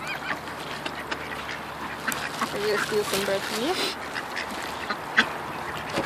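Ducks quack several times close by in short bursts at a park while people feed them and talk over them outdoors.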